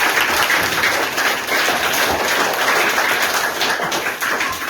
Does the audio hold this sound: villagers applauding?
yes